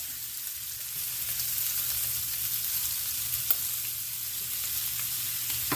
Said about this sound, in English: I'm going to go ahead and start flipping over some of these shrimp